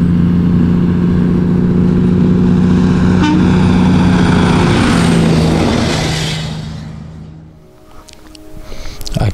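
A lone vehicle passing on an empty desert road in the Atacama, heard from inside a moving car: a loud engine roar that swells and then fades away over several seconds, followed by quieter road noise.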